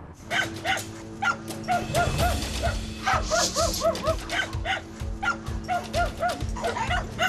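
Several dogs bark and yip rapidly and loudly nearby at a dog walking past, continuous overlapping barking with whimpers.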